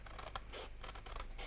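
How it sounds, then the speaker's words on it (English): Large scissors snip through a paper template and the cardstock beneath it, giving a few close, crisp cutting bursts with short pauses between strokes. "I'm quite happy using my scissors, large scissors"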